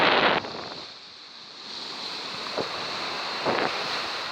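Rough sea waves breaking on the beach at Bognor Regis on a windy, cloudy day, a broad steady wash with surges at the start and again near the end, mixed with wind buffeting the microphone.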